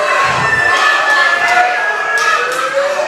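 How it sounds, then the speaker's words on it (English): A wrestling crowd in Houston Premier Arena shouts and jeers together in a loud sustained roar, with individual voices and whistles rising out of the dense noise. "The crowd displeased here in Houston Premier Arena."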